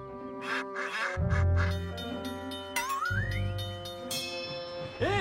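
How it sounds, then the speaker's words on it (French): Several ducks quack loudly and close by in quick, overlapping bursts, with a whistle-like rising tone cutting through partway. "Bougez-vous les plumes, les canards."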